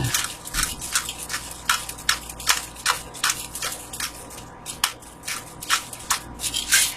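A pepper shaker is tapped and shaken over coleslaw in a kitchen, giving a long series of quick, crisp rattling shakes in an uneven rhythm, close and fairly soft.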